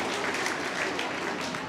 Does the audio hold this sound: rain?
no